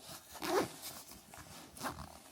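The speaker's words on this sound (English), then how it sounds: "push it in the middle so that this doesn't get caught on the zipper" A zipper is drawn closed on a Peak Design packing cube in two short rasping pulls, close and fairly loud, with quieter handling noise between them.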